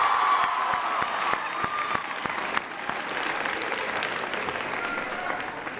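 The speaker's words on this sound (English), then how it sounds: "Give Leah a big round of applause." A high school audience gives a big round of applause with some cheering, a dense, sustained wash of clapping from a crowd that fades slightly toward the end, with a few voices mixed in.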